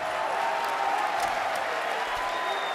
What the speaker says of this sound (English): Now they're clapping.